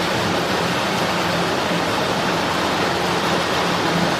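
Fast supercritical water flow rushing along a laboratory channel makes a steady, dense, broadband roar with no pauses and no speech.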